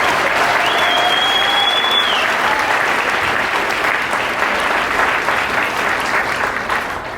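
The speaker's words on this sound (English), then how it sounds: "let's give the jazz band another round of applause." Sustained, loud applause from a community college audience for a jazz band, a dense even wash of clapping with a thin whistling tone drifting above it early on, steady throughout before easing slightly at the end.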